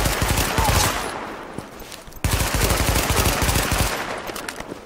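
Sustained automatic gunfire rattles in Tom Clancy's The Division, loud and dense, with a brief dip before the rapid shots resume.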